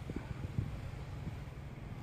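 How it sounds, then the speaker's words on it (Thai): Strong low-level wind during a New Year's kite run, a steady rumbling buffet across the microphone with brief gusty bumps and no voices. "ลมแรงมากนะครับ แต่เป็นลมข้างล่างครับ"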